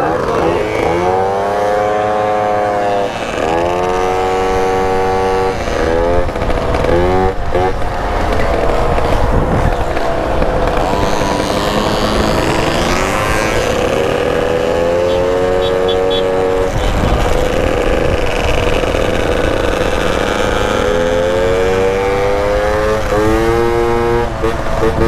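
A Mobylette moped engine revs loudly while riding, its whining pitch rising and falling through repeated throttle sweeps, close and continuous.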